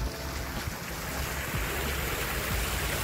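A water fountain or small cascade at a museum entrance in Hamilton gives a steady, broad rush of splashing water, loud and close, continuous for the whole stretch with no voices.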